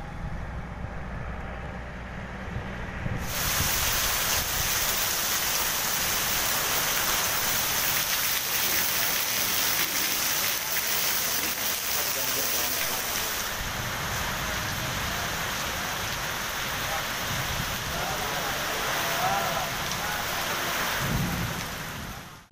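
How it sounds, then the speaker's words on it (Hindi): Heavy rain pours down steadily during a strong thunderstorm with gusting wind in Waraseoni tehsil, a dense, loud, continuous roar of rainfall with rumbling underneath that holds steady throughout. "वारासिवनी तहसील से तेज आंधी के साथ बारिश दर्ज की गई"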